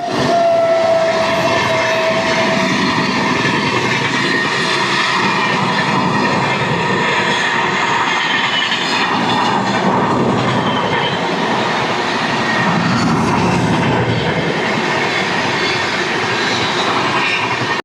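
A passenger train runs steadily along the tracks, heard from on board as a continuous loud rumble and rattle of wheels and carriages with no voices over it.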